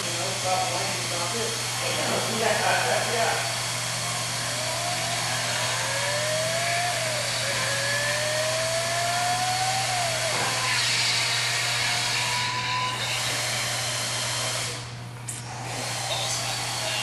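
Recorded Lamborghini Countach fitted with a non-stock exhaust, revving very high in rising and falling sweeps, a loud, buzzy engine scream with hiss, followed by a brief drop.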